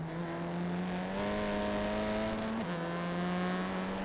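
A TCR touring race car sits bouncing on its rev limiter during a sim racing broadcast at Silverstone, giving a steady, loud, buzzing engine drone with a brief pitch dip partway through, no talk over it.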